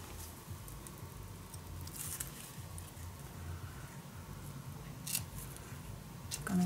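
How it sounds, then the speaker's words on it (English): Scissors cut paper to size for a shabby chic mini album, producing faint, close snipping and rustling in a soft continuous run with a few sharper snips; no talking. "So I am gonna cut this at the right size."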